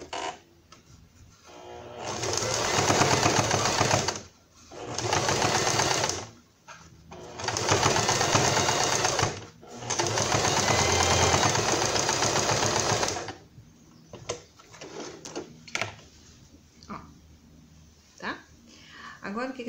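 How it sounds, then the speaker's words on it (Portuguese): A sewing machine runs a straight stitch through fabric in several sustained bursts separated by short pauses, humming steadily up close. A voice speaks at times alongside it. "E aqui a gente passa uma costura reta para segurar legal o nosso tecido, tá?"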